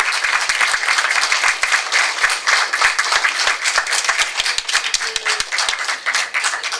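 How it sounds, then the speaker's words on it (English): An audience at a senior daycare ribbon-cutting ceremony applauds for the staff, a dense, steady round of clapping from many hands that carries on evenly throughout. "Nice round of applause."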